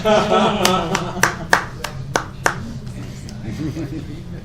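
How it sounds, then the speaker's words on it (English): Sparse, scattered hand claps from a small audience at a talk on multi-winner voting methods. About half a dozen sharp, separate claps ring out over murmuring voices and light chuckling, then fade into quiet talk. "now you see how much applause I get"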